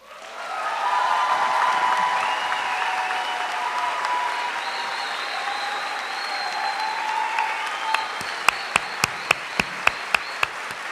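Applause breaks out in a studio audience at a presidential primary debate, rising quickly into a broad, steady roar with some cheering, then a single person's loud, evenly spaced claps ring out close by in the final seconds.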